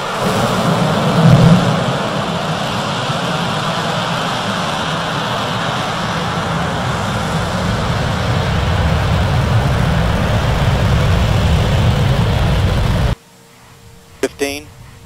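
Space Shuttle main engines ignite and the launch roars as a loud, continuous broadband rumble that holds steady for about thirteen seconds and then cuts off abruptly to near quiet.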